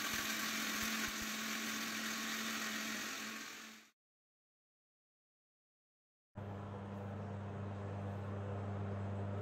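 A mixer grinder grinds sabzi masala spices with a loud, steady whine, stops cleanly for a couple of seconds of silence, then starts again at full power.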